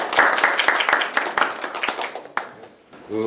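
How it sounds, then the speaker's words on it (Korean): Brief applause from the audience at a Seoul public forum on Yongsan base pollution, welcoming a city official to speak; brisk clapping that thins out and fades, with a voice starting right at the end. "큰 박수로 모시겠습니다."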